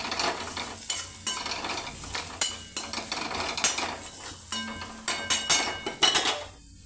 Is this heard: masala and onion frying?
yes